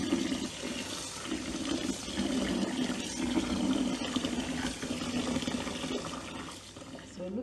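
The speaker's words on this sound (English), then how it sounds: "I'm going to pour some water" Water is poured onto soaking fermented corn for akamu paste, a steady close gurgling splash that runs throughout, with a voice talking faintly beneath it.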